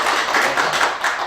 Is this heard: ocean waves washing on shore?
no